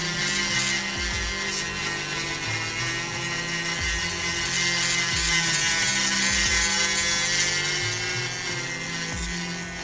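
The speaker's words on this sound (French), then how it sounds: "après je vais poncer avec la Dremel sur les côtés pour rattraper" A Dremel rotary tool sanding the edges of wooden boards, a loud, steady high-pitched whine with rhythmic grinding pulses as it works along the wood.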